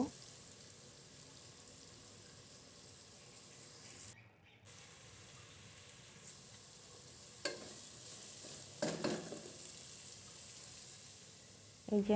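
Chicken biriyani ingredients frying in a pan over medium heat, a steady low sizzle with a few louder scraping stirs and clatters toward the end.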